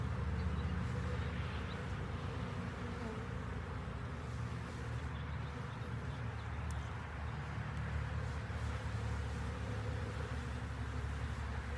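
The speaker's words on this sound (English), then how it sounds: "So she is now in a bulk of bees." A dense swarm of honeybees drones steadily around a newly introduced queen bee, a close, continuous low buzz that fills the whole stretch without talk.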